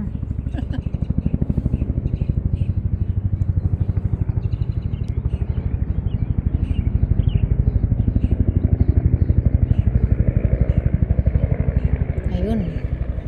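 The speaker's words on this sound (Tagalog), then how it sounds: "May helicopter." A helicopter passes over a neighborhood street near a park with a continuous rapid rotor thump, loud and even throughout, while a person speaks now and then.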